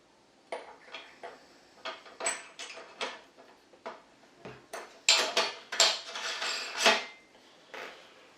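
Metal parts of a meat mincer, the blade and cutter, being fitted together by hand: a series of sharp, close clinks and clacks, sparse at first, then quicker and louder toward the end, with no speech.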